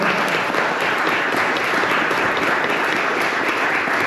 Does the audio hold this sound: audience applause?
yes